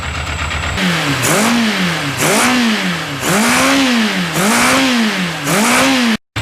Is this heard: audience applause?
no